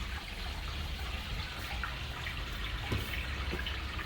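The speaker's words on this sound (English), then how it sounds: "Let's turn this water on, see if there's any leaks." Water rushes steadily through a newly connected water heater supply, a constant hissing flow with faint clicks and drips, no voices over it.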